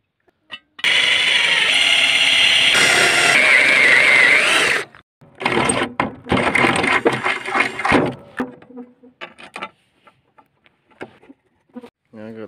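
A power drill bores a hole through the metal mount for a Catch Pro grass catcher on a Hustler Raptor SD mower, a loud steady whir for about four seconds, followed by someone speaking close by over small clanks and handling noises.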